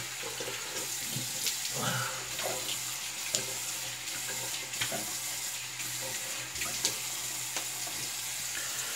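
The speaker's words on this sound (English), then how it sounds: "let's get the cool water going." A faucet runs steadily into a sink at a low level, a constant hiss of water with small splashes and clinks.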